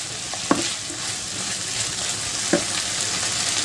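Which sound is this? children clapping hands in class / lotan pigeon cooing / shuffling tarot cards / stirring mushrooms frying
stirring mushrooms frying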